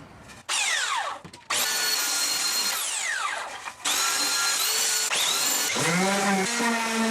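A power sander works the face of a wooden Link's Shield from Legend of Zelda, whining in loud bursts with sharp starts and stops and pitch sweeps as it speeds up and slows down.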